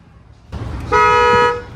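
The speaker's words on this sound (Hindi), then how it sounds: "फैन फेयर हॉर्न है" A Mercedes-Benz CLA 250+ AMG Line EV (2026) sounds its fanfare horn in one steady, bright, close honk of about half a second, with a rich chord-like tone rising over faint background noise.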